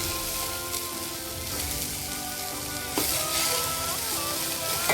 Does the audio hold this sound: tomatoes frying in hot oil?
yes